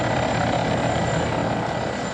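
Helicopter rotor and engine noise, a steady, dense droning whir that holds loud and constant without a break, with no talk over it.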